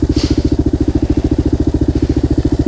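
Kawasaki KLR650 single-cylinder motorcycle riding through slush, its engine thumping in a fast, even pulsing rhythm, loud and close throughout with no talking.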